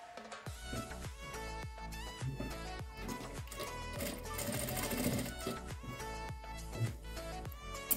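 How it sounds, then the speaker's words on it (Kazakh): A sewing machine stitches along a folded fabric edge for a table runner, a close, steady rapid clatter of the needle running continuously with slight variations in speed. "Мінекей қайырған жерімізден енді тігіс береміз."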